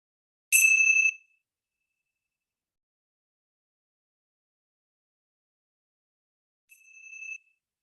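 Meditation bells ring as two clear, high struck tones: a bright ring at the start and a softer one near the end, with long silence between.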